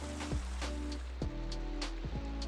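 Rain falls in the Minecraft ATM8 modpack as a steady synthetic hiss of drops. Several low, sliding tonal sounds from the game cut through it.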